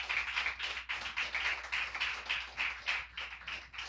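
A church congregation at an evening revival service claps together in a steady, fast rhythm, many hands beating in unison as an offering of applause to God, close and continuous with no talking.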